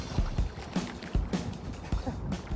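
A makeshift raft built from Crocs is paddled through water, giving rhythmic splashing strokes roughly every half second, each a sharp slap and swish, close by with no talk.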